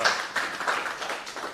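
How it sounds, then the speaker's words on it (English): A small audience at a talk gives a round of applause, a few hands clapping in loose, uneven bursts that fade toward the end. "Let's have a round of applause for that"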